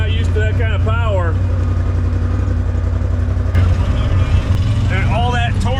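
A 1984 Ford Escort drives slowly around a yard, its steady low engine drone running throughout, with voices talking over it near the start and end.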